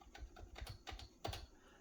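Fast keystrokes tap on a computer keyboard, with a quick irregular run of light clicks and a firmer press near the end, close and quiet while text is erased during microchip programming.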